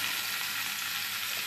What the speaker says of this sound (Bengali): পিসগুলো একটুখানি এপিট ওপিট করে লাল লাল করে ফ্রাই করে নেবো